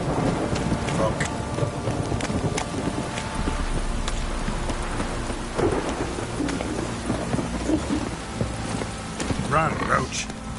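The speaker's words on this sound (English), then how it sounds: "This downpour's a bastard, it is." Heavy rain and thunder in The Witcher 3 on PS5, a constant loud downpour with deep rumbling, horse hooves clopping through it and occasional voices over the storm.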